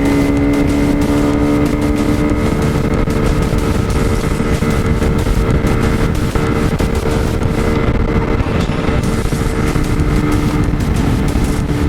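A Lifan KP Mini 150cc motorcycle fitted with an upgraded intake and a 34-tooth sprocket, accelerating hard in fourth gear, its engine droning loud and steady with a rising pitch and constant wind roar, close up throughout.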